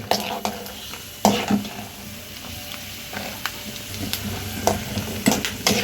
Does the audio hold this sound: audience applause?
no